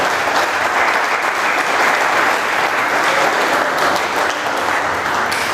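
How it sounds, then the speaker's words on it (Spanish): A church congregation claps steadily and loudly in unison for several seconds, a thick continuous wash of applause with no voices standing out. "Dele palmas al Señor si lo cree."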